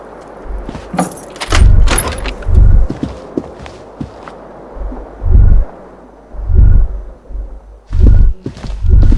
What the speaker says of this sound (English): You hear a jingle. Keys are clinking in the pocket of your flare cup.